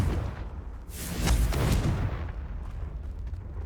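The Confringo blasting spell is cast in Hogwarts Legacy, landing as a deep, booming explosion that swells to a heavy roar and then rumbles and fades over a few seconds.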